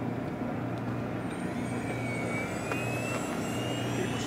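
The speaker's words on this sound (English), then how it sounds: "this plane is just a wonderful flying jet" A Freewing 90mm F-4 Phantom II RC jet makes a slow, throttled-back pass down the runway at an evening flying event, its steady turbine whine and rising tone drifting at a moderate distance over continuous airflow rumble.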